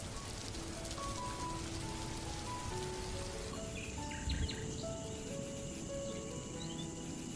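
Steady rain patters and splashes on surfaces, a dense even hiss, with faint bird calls chirping in the background.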